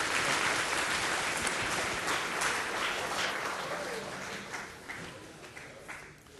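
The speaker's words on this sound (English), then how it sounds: "Short applause" An audience in a university aerospace engineering lecture hall gives short applause, dense clapping that starts full and gradually thins and fades over several seconds.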